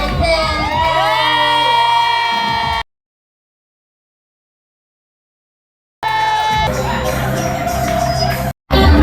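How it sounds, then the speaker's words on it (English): An event audience cheers and shouts loudly as a speaker is called up to the stage, a dense roar of crowd noise that cuts out to silence and then returns just as loud. "give a round of applause"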